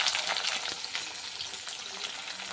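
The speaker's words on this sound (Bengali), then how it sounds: "পেঁয়াজটাকে ভেজে নিলাম।" Onions frying in hot oil in a pan, a close, steady crackling sizzle with sharp spitting pops throughout, heard alone without voices.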